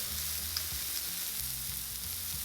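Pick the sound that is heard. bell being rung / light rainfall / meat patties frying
meat patties frying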